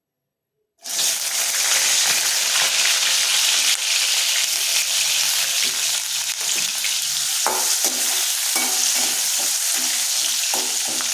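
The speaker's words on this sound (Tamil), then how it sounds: "எண்ணெய் சூடாயிடுச்சு வாழைக்காய் போட்டுக்கிறேன்" Raw plantain pieces dropped into hot oil in a pan, bursting into a loud, continuous sizzle after a brief silence, with bubbling crackles and occasional stirring taps up close.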